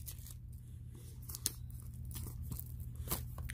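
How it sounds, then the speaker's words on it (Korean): Plastic film is torn off a pair of wireless earbuds' retail packaging in short, crisp ripping and crinkling bursts, close and fairly quiet, with a few sharper snaps over a low steady hum. "찢어야 되니까 비닐을"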